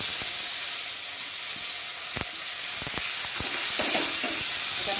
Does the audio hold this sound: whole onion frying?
yes